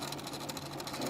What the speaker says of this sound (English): I'm going to sew down this portion right here